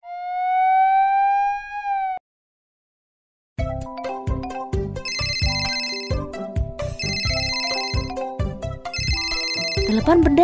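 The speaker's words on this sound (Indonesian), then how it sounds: "Telepon berdering, ayo kita lihat apa yang terjadi" In a BabyBus children's game, a single sliding electronic tone sounds first, then after a brief pause a cheerful, looping melodic ringtone chimes steadily as a telephone rings.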